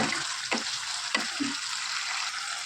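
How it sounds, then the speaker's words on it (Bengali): Banana flower stir-fried in a pan for a vegetarian mochar ghonto, a steady broadband sizzle with a few short scraping stirs of a spatula against the pan, close and moderately loud, no talking. "মোচাটা দিয়ে কষাতে হবে এটা একটুখানি কষিয়ে আমি ঢেকে দেবো"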